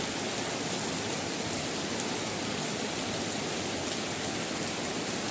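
A heavy downpour falls in a village during the monsoon, a thick, unbroken roar of rain that stays even and loud throughout, with no other sounds.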